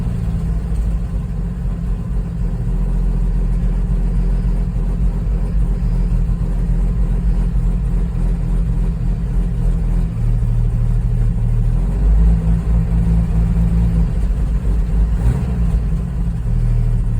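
An old engine, just started after over 20 years without an oil change, idles with a steady, low rumbling drone, its pitch shifting slightly as it runs, loud and close with no talking.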